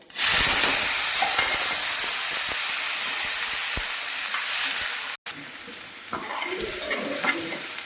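Chopped onion, tomato and green chili hit hot oil with cumin seeds, letting out a loud, bright sizzle that settles into steady frying. Occasional stirring scrapes run through it, with one brief gap.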